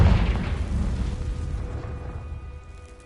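A Confringo spell explodes in the Hogwarts Legacy video game, opening with a heavy booming blast that rolls into a long, decaying rumble over about three seconds, with no talking.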